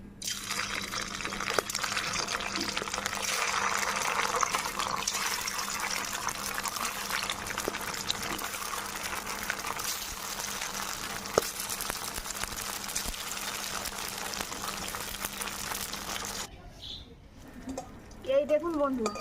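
Paneer pieces made from bottle gourd deep frying in hot oil, giving a steady dense sizzle and crackle that holds for most of the stretch before cutting off near the end, with light kitchen clatter afterward.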